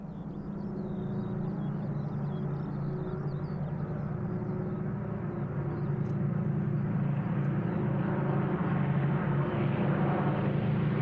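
An Avro Lancaster bomber, PA-474, drones overhead at an air show with a steady, distant rumble of piston engines that grows slightly louder over about eleven seconds.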